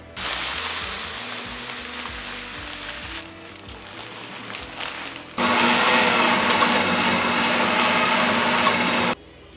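A grain mill, set for a finer crush, grinds brewing malt for an American strong ale: a rough motor grind, a quieter lull, then a louder, denser burst of crushing that stops abruptly.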